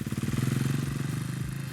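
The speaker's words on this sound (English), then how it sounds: "massage that throttle to keep the bike in the really happy part of the revs" A dirt bike engine burbles at low revs close by, a rapid throbbing pulse that rises slightly and settles, steady and fairly loud.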